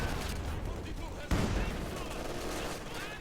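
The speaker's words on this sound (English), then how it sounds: "Zis opens up with his light artillery barrage" Light artillery fire in a strategy video game: a sudden loud blast of shelling cuts through steady battle noise partway through, with rumble continuing afterwards under a faint voice.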